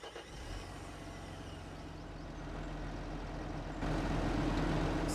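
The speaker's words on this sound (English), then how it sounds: "let's hop into our Lamborghini" A Lamborghini in Farming Simulator 25 drives with a steady engine drone that swells gradually and steps louder toward the end, heard on its own.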